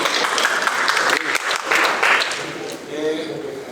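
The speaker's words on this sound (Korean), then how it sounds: "박수 한번 쳐주십시오." An audience at a special lecture event in Naju claps together in a steady burst, the applause mixed with a voice speaking over it before tapering off.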